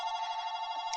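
A phone rings nearby with a steady electronic ringtone, a sustained bright tone alone and moderately quiet.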